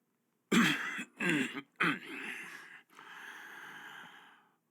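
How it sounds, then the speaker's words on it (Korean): A man clears his throat two or three times in short, husky bursts, followed by a longer breathy exhale, close and fairly quiet in an otherwise silent room. "판사가 한두 번 헛기침을 했다."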